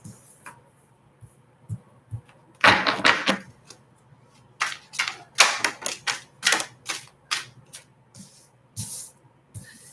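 Tarot cards being shuffled, crisp clusters of riffling snaps and pops in irregular bursts after a quiet start, loud and close with no talk over them.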